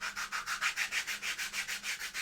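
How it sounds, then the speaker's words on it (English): Steady back-and-forth sanding strokes of sandpaper on wood, about six per second, close up and evenly rhythmic with no talking. "Just a little bit of sanding like that."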